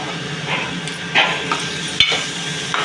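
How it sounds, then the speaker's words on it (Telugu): Pieces of chicken are tipped into a pan of cooked-down tomatoes for a spicy Indian chicken curry, giving a low sizzle with a few soft clatters and stirring knocks nearby. "ఇప్పుడు ఇలా చికెన్ వేయాలి."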